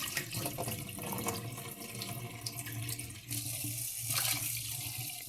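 Cold tap water runs steadily into a bowl of sushi rice for soaking, a continuous close splashing rush from a kitchen faucet that brightens toward the end as the stream shifts.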